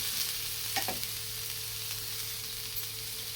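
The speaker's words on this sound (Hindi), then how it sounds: "इसे मिक्स करेंगे और प्याज को भी अब ब्राउन होने देते हैं।" Onions are fried until brown and stirred in a pan, giving a steady close sizzle with a couple of brief spoon scrapes early on.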